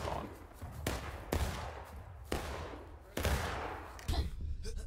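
Musket fire in the Civil War game War of Rights: several sharp, echoing shots crack out at irregular intervals over a low battlefield rumble.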